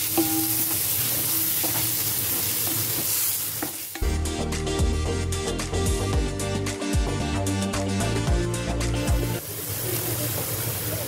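Eggplant filling with grated fresh coconut sautéed and stirred in a pan over low gas: soft sizzling with a burst of clattering spatula scrapes and stirring in the middle, quieter frying before and after.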